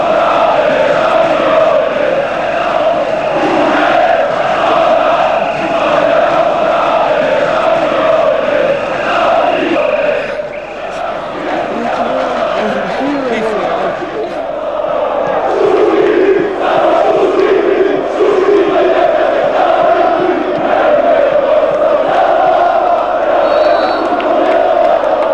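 A large crowd of about 7,000 Hajduk Split football fans sings and chants together in celebration of the 2001 championship, a dense, continuous roar of massed voices at steady loudness that dips only briefly near the middle.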